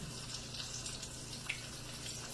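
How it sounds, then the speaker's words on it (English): Tap water running into a kitchen sink while someone rinses their hands, a steady close hiss of flowing water with a faint splash or clink partway through. "I just wash my hands a little bit"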